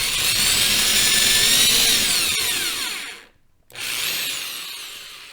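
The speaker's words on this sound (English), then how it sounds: "So let's take this drill." A power drill bores a hole in a guitar body for a Hipshot Baby Grand bridge, a loud steady whine with a brief pause near the end before drilling resumes.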